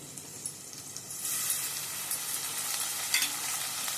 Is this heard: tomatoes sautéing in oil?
yes